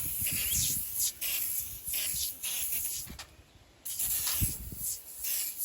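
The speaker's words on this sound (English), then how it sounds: "So now I'm going to spray the foam degreaser, super clean degreaser." Super Clean foam degreaser sprayed onto a table in several steady hissing bursts close by, with a brief near-silent gap partway before the spraying resumes.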